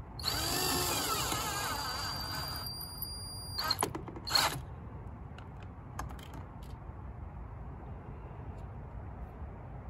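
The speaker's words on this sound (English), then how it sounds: "the last thing is to tighten the clamp on the air hose." A power driver briefly runs twice to tighten the clamp on the air hose of a 2013-2018 Ford Escape, giving short loud whirring bursts over a quiet, steady engine-bay background, with a high electronic whine early on.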